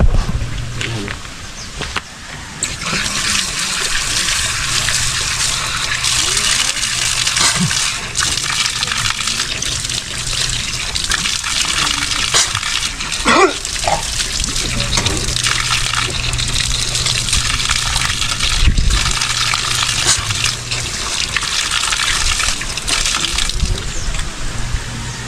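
Water gushes hard and continuously from an opened tap, loud and close, with a brief splashing shift midway, while people talk faintly in the background.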